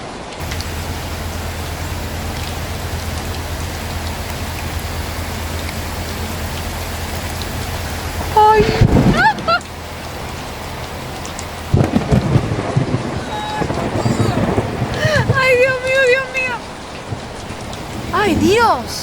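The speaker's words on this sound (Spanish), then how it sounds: "vienen habiendo unos relámpagos, unos truenos tremendos. Ahora llegó el agua." Heavy rain drums steadily on the ground during a thunderstorm, with loud thunder crashes rolling in partway through. Voices and other noises rise briefly above the downpour near the end.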